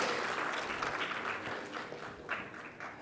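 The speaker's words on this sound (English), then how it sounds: "A huge round of applause, ladies and gentlemen, to Dr. Sudhakar." Dense applause from a large audience, a continuous roar of many hands clapping that slowly thins toward the end, heard from a distance.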